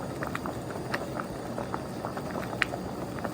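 Eggs boil in a pot of water, the bubbling a steady close patter and burble with scattered small pops and no voices.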